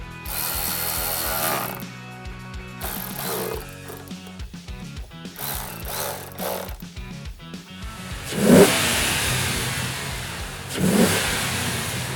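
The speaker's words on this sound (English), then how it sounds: "get this dyno fired right back up" A car fitted with a new aftermarket air intake revs on a dyno. The engine note is fairly quiet and uneven, with mechanical ratcheting and short louder bursts near the end.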